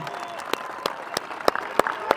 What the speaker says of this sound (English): Round of applause, Brian